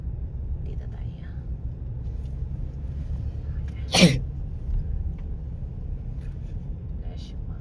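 A single sharp sneeze from someone passing through a park, bursting out midway over a steady low outdoor rumble and faint background voices.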